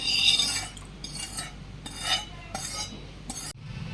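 A spoon stirs and scrapes through mango pickle masala mixed with sun-dried raw mango pieces, making several distinct scraping strokes with light clinks, close up, with no talking.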